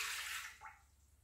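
Water poured into a dough mixer for empanada dough, a steady rushing splash that fades after about half a second, followed by a brief, softer trickle.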